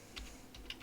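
Keys tapped on a computer keyboard in a few quiet, separate clicks, close by and soft, with no voices.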